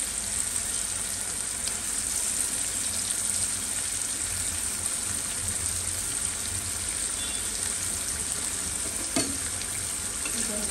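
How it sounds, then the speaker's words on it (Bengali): Ginger and garlic fry in a pan with a steady, close sizzle and hiss, broken by occasional stirring scrapes, running evenly throughout with no voices. "কারণ আদা রসুনটা আমি সবসময় আগে একটু ভেজে নিই।"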